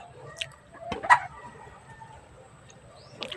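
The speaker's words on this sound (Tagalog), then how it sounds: "Yan, ulikba po yan buong katawan ay itim." An all-black ulikba chicken with black beak, comb, body and legs clucks in short soft bursts, one louder call near the middle, over faint background birds at morning feeding.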